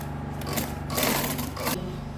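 Sewing machine stitching a tote bag, a close, steady rapid mechanical whirr of the needle that swells briefly louder mid-run, with no talk.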